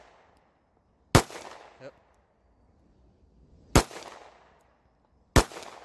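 A cheap handgun fired three times, sharp loud cracks spaced a few seconds apart, each followed by a short echo, with a brief spoken word between shots.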